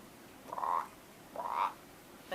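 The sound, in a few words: children imitating frogs croaking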